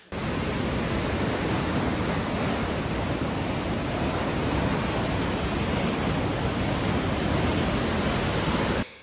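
Floodwater rushes through streets after heavy rain in Mersin, a loud, steady, broadband roar of moving water that fills the whole stretch without letup and with no voices heard.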